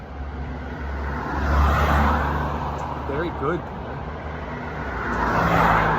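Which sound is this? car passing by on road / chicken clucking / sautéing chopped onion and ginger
car passing by on road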